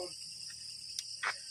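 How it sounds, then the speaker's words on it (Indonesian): Crickets chirp in a forest, a faint, steady high-pitched trill that carries through the whole short stretch, with a couple of brief soft rustles or clicks. "Ini hutan nih, suara jangkrik ya."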